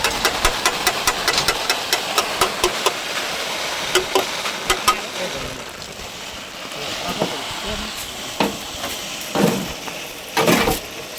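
A tractor engine runs steadily nearby during mulching for a cowpea field, a rough continuous drone with rhythmic knocking pulses and occasional sharp clunks, people talking over it at times.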